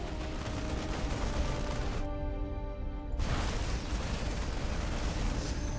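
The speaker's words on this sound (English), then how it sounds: "massive tank shots" Siege tank shells hammer down in a StarCraft 2 match, a continuous roar of heavy explosive blasts with a short dip in the middle before the barrage surges back.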